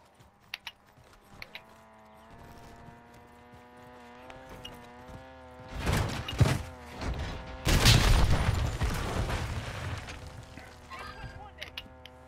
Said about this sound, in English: He got me with a rocket launcher, boys.